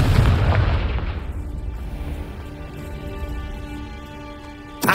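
A Confringo spell explosion in a wizard video game opens with a loud booming blast that rumbles and slowly fades into a lingering ringing tail, with a short sharp burst at the very end.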